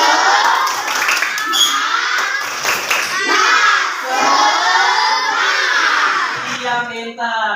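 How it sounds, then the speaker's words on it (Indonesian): A class of schoolchildren loudly chants the tepuk semangat clapping cheer together, with rhythmic claps mixed into their energetic, shouted voices close by. "Ayo kita sama-sama tepuk semangat ya."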